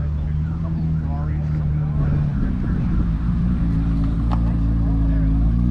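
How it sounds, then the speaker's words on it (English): A loud green Corvette C8, likely modified, drives by at a Rocklin, California cars-and-coffee meet, its steady low engine drone swelling as it passes close, with crowd chatter around it. "This green C8 sounds hella loud"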